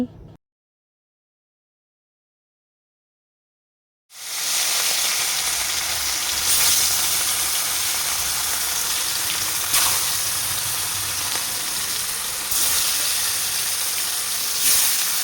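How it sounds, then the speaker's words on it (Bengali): Fish fry in a very hot pan on a gas stove, a loud, steady sizzle and hiss that bursts in after four seconds of silence and continues close up with occasional crackling spikes. "তো এদিকে দেখো আমি মাছগুলোকে ভেজে নিচ্ছি।"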